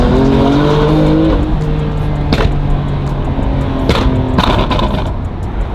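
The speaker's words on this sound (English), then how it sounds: "we just wrapped up this beautiful BMW M2 with our stage 2 tune exhaust" BMW M2 fitted with a stage 2 tune, stage 2 exhaust and an aftermarket mid pipe, its engine droning loudly and steadily throughout, with a few sharp rev blips or pops standing out near the middle and end.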